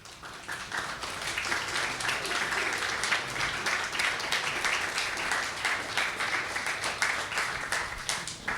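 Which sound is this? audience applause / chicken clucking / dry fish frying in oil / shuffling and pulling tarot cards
audience applause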